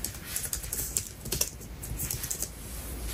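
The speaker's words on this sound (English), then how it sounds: "while the keys do make a clicking noise, this isn't too loud to make it annoying" Typing on a Logitech MX Keys S low-profile keyboard, a steady patter of soft, quiet key clicks in quick irregular succession with no voices.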